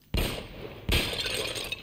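An object breaks in the video game Uncharted: Drake's Fortune: two sharp glassy crashes in quick succession, each trailing into a bright, scattering shatter.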